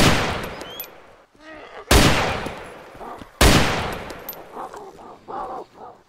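Loud gunshots in the video game Arma 2 DayZ mod ring out, with sharp booms decaying into long echoes and a voice speaking between them.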